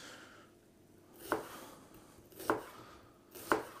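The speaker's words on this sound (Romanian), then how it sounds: "Tăiem ceapa astfel pentru a avea fâșii cât mai lungi, cât mai mari." A knife cuts an onion into long, wide strips for a beef and onion dish, with three crisp, evenly spaced strikes on a cutting board against a quiet kitchen background.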